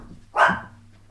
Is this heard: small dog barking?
yes